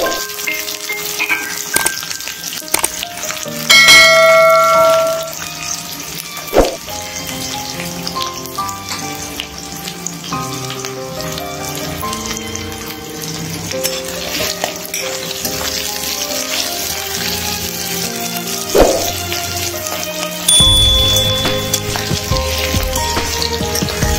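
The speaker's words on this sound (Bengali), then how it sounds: "পেঁয়াজটাকে ভালো করে ভেজে নেব।" Chopped onions hit hot oil already tempered with chilli, cumin and cinnamon for a yogurt chicken curry, giving a steady sizzling hiss beneath prominent background music for the whole stretch.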